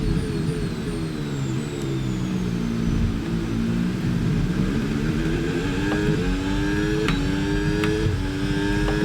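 Formula 1 cars in the F1 26 racing game at the Hungary circuit scream past during an overtake. Several high engine whines overlap and shift in pitch, loud and continuous, with no talking.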